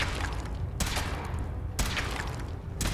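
Weapon firing in the video game Fallout 4, heavy repeated blasts in a dense rapid burst, with two sharp loud reports standing out over a constant roaring wash.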